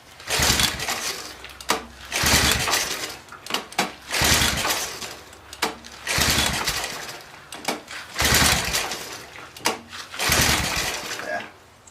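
A Honda 185s engine, freshly carb-cleaned, sputters through repeated pull-start attempts with the choke on, bursts of rough running cutting in and out, loud and close.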